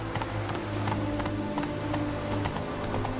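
Roach the horse gallops in The Witcher 3: Wild Hunt, a steady run of hoof clip-clops over game music and ambience, fairly close and continuous with no speech.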